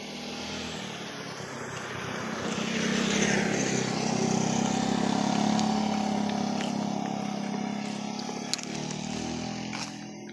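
A motorcycle rides along a coastal road near a sea viewpoint in Manito, Albay, its engine and wind rumbling steadily and loud throughout with no talking.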